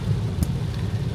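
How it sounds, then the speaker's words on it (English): Heavy rain pours down in a steady, dense roar with a low rumbling undertone, continuous and loud throughout with no voices. "it's raining really hard right now, actually"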